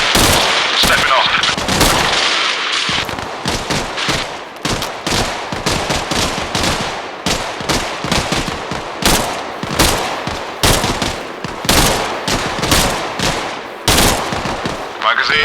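Sustained suppressing rifle and machine-gun fire in ARMA Reforger, dense loud shots in rapid irregular bursts from several weapons throughout, with voices calling out over the shooting.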